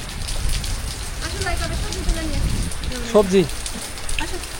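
Rain falls steadily on surfaces as a broad patter, with people talking and shouting over it close by.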